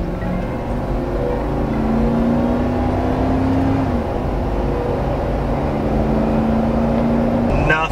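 Toyota Land Cruiser 100 (LX470) with freshly greased drive shaft slip yokes accelerating up to speed, heard from inside as a steady loud engine and road drone with rising engine tones, no clunks.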